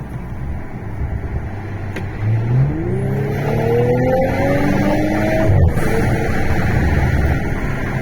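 Audi S5 Sportback with 350 hp accelerating hard from inside the cabin, engine note climbing steadily in pitch over several seconds through a gear, loud and continuous with road rumble underneath.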